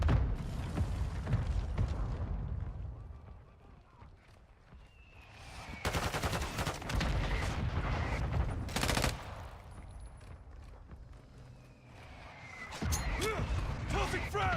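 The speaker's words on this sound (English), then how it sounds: "Hostile mortar strike incoming" Video game combat with a hostile mortar strike and rapid gunfire, bursts of loud automatic shots and booms that come in heavy clusters, with quieter gaps between them.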